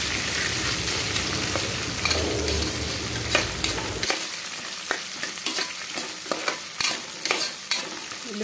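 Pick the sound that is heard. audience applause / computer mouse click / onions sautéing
onions sautéing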